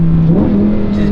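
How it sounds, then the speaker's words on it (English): A rear-wheel-drive Lamborghini Huracan engine revs up close and loud, one sustained climbing note with a steady throaty drone. "The revs just jump."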